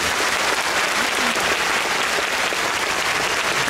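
Concert audience at a gala show applauding loudly, a thick, unbroken roar of clapping that stays level throughout with a faint crowd murmur beneath.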